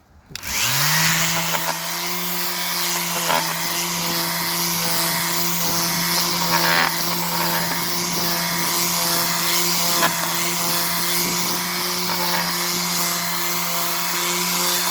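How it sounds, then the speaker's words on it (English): A power tool whines at a steady high pitch as it grinds and scours rust off a railroad tie plate, starting abruptly and running loud and continuous throughout, with faint scraping variations from the metal surface. "So we're going to remove even more rust off the rail plate"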